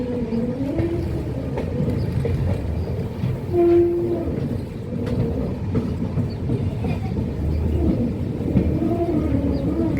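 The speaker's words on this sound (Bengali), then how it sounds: "ট্রেন আছে ওভারব্রিজের উপরে।" A train rumbles steadily at Kamakhya Junction station in Assam, heard from an overbridge, with a continuous low mechanical drone and a brief horn-like tone partway through.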